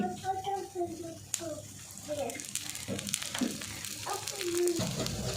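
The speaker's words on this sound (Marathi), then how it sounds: "वरून थोडंसं तेल सोडून घेते" Rava appe sizzle in oil in an appe pan, a soft steady frying hiss with occasional clicks and scrapes, while a person talks over it.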